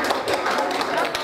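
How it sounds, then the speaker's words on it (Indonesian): A workshop audience at a Jakarta high school gives a short burst of dense clapping from many hands, lively and close, with some voices mixed in. "tepuk tangan dulu semuanya"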